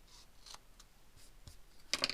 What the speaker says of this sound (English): This needs to be trimmed just a little bit.